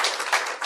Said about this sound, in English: Please give her a round of applause for her hard work this session